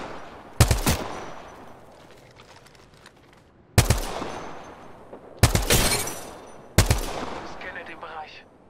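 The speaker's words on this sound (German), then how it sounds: "Ich stehe unter Beschuss, Freunde." Gunfire in the battle game Apex Legends while a player is under attack: four loud, close bursts of shots spaced a second or more apart, each fading into echo, with quieter rattling between them.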